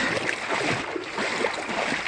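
Continuous splashing and sloshing of water, close and steady, like feet wading through shallow swamp water without pause, in Big Cypress Preserve.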